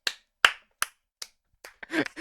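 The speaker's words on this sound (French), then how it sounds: "Moi j'applaudis" A single person claps slowly and deliberately, four spaced claps close by, then a quicker cluster of claps mixed with a brief burst of voice at the end.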